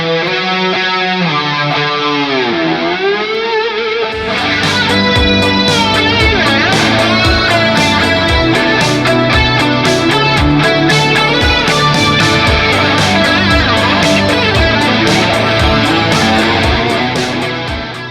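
Electric guitar through a Boss DS-1 distortion pedal with an 80s synthwave shred tone, starting with bending sustained notes, then a loud, driven passage of fast picked notes over a steady beat.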